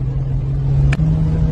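Engine of an unplated Peugeot Pars car revving at night on a mountain pass, a loud steady droning hum with a brief sharp click midway, close and alone.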